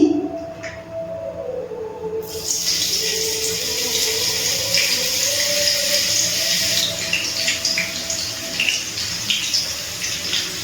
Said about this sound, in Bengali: বাকি মিহিদানা একইভাবে ভেজে নিচ্ছি